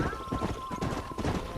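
Hooves of a horse clip-clop at a steady trotting rhythm in the Red Dead Redemption video game, fairly quiet, with faint ambient tones and a high whistle-like note.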